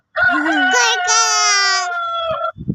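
A rooster crows in one long, drawn-out call with a rising, wavering tone, loud and close, ending with a few short scuffling sounds.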